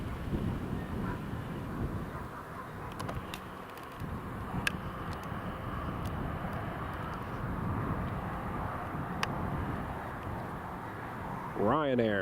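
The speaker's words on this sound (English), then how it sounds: "Ryanair 737-800. Actually, it might be a Max." Ryanair Boeing 737-800 or 737 Max on ILS approach to Newcastle Airport on a warm day, a steady broadband jet roar held throughout at moderate distance, with a rising whine near the end.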